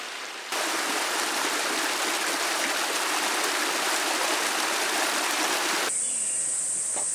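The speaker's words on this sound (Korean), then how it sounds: "이 물소리만 듣고 있어도." A mountain stream in Naejangsan rushes steadily, a loud, continuous broadband wash of flowing water that holds unbroken for several seconds and stops near the end.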